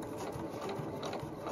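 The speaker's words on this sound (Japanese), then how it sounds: "ずれやすい脇の部分から最初に縫っていきます。" Sewing machine running steadily while stitching the side seams of a small fur tote bag, a quiet, even mechanical hum close by with no talk.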